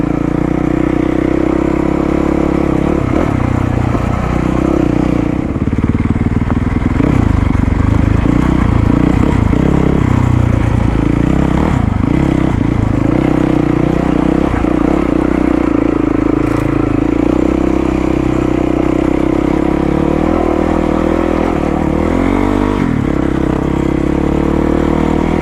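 A Yamaha WR450 dual sport motorcycle rides winding roads, its engine droning steadily and loudly up close, with wind rush and a light clatter throughout.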